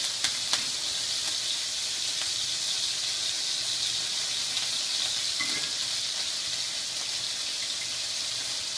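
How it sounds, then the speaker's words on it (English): Steady, close sizzling of sauce caramelizing on a hot grill at a Fatburger restaurant, a continuous bright crackling hiss that holds evenly throughout with no voices. "Hear that sizzle? That's that sauce caramelizing on there."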